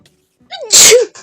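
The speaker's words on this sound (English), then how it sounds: "Oh my god, I gotta sneeze." A single loud, close human sneeze, a short breathy intake building into a sharp burst that trails off quickly.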